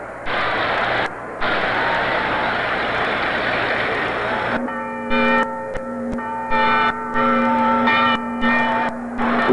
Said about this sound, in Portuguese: Os sinos das igrejas dão início à corrida